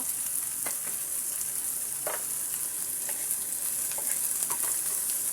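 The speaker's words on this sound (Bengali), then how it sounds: "এবার আমি হলুদ এবং মরিচের গুঁড়ো কাঁচামরিচ পেঁয়াজ এগুলো সুন্দর করে ভেজে নেব" Turmeric, chili powder, green chilies and onions fry in hot oil with a steady, close sizzling hiss, broken by a few light clinks of a stirring utensil; no one speaks.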